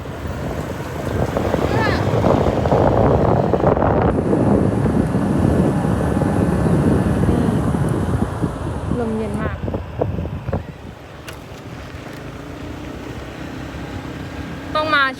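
Cool evening wind sweeps across an open reservoir shore, a steady broadband rush with gusts that stays loud throughout, while people talk faintly in the background.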